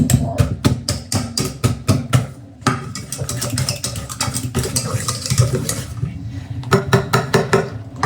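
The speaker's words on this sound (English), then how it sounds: "So you are going to mash your banana." Ripe bananas are mashed in a bowl for banana bread, a busy run of rapid, rhythmic clacks and squelches from the masher hitting the bowl, close and fairly loud with short pauses.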